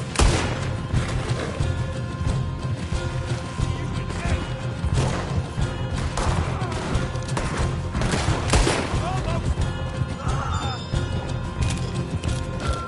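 Gunfire in a Red Dead Redemption 2 shootout, dense and continuous with sharp cracks and crashes over a busy rumbling background, voices shouting now and then amid the shots.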